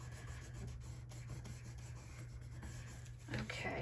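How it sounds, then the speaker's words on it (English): Paper flowers being burnished down onto a planner page, a close, soft continuous rubbing and scraping with short strokes, ending in a slightly louder rub. "we'll burnish down our flowers"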